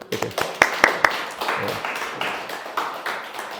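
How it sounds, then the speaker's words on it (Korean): Church congregation clapping for a member who found a job in Seoul, a short round of hand claps mixed with voices and chatter in a small worship hall. "우리 박수 한번."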